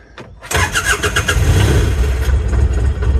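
A mini excavator engine cranks over quickly and catches, a brief whirring spin followed by a loud, steady running rumble up close with no talking.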